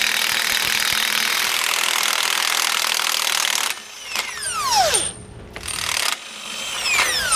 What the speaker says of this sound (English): So I'm going to try my impact gun here and just get this off